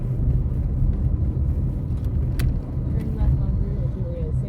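A small moped-like vehicle resembling a TVS 50 runs with a steady low engine drone and road rumble, with brief clicks and rattles over the top.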